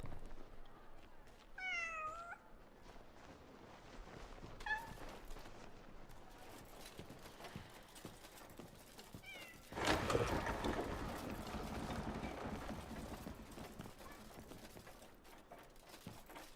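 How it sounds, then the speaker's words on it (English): A short-haired cat in the video game Crimson Desert meows several times, once clearly and then more faintly, over a busy game background that includes a louder burst of noise partway through. "Short-haired cats are remarkably elegant."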